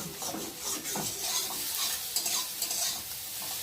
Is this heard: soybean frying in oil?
yes